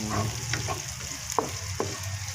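Meat is sautéed with radish and pechay in a pan, a steady close sizzle with a couple of sharp scraping clicks from stirring.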